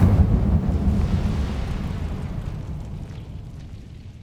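Incendio fire spell in Hogwarts Legacy, a loud deep whooshing roar that bursts at once and then slowly fades over several seconds.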